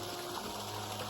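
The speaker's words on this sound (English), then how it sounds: "sound of the waterfall" A waterfall on a mountain trail between Neel Gap and Poplar Stamp Gap gives off a steady broadband rush of water, continuous and fairly close, with no voices.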